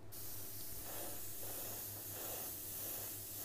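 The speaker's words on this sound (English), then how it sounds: "Spray the whole thing." Steady hiss of spray paint from an aerosol can laying a bright red coat over an entire piece, continuous and close with slight pulsing, a low hum underneath and no talking.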